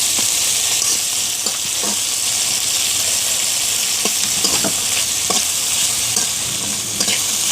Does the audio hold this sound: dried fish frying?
yes